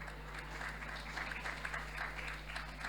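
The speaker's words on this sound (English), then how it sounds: "I will take the applause again." A conference audience at a CARIFESTA XV panel discussion in Barbados gives a faint, steady round of applause, heard from a distance beneath a constant low electrical hum.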